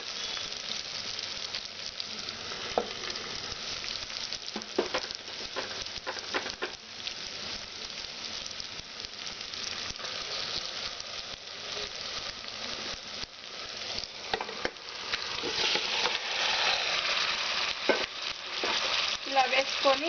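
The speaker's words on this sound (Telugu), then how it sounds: "గబగబా కలిపేయకుండా ఇలా మెల్లిగా కలిపేసుకోవాలి" Masala-coated chicken sizzling steadily in a pot while being gently stirred on medium flame for chicken pulao, with scraping stir sounds over continuous close frying; no talk.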